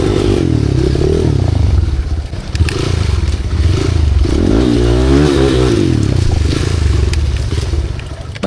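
Motorcycle riding on a rough, deep-rutted road, the engine droning and revving loudly up close while the bike rattles, clatters and scrapes over bumps continuously.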